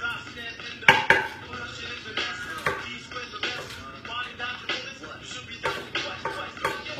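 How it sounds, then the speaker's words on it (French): A knife chops fresh asparagus into rough pieces on a board. Uneven knocks and clatters come close by, with a sharp clack near the start and a quicker run of cuts later. "Je vais juste les couper grossièrement en morceaux."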